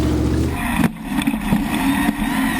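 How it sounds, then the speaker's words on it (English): Hand-built rock crawler with a Corvette engine and sticky tires, driving off-road over rocks: a steady low engine rumble with brief bumps and knocks from the terrain, close and continuous throughout. "He hand-built this special crawler with a Corvette engine, special sticky tires, and all kinds of axle and suspension tricks"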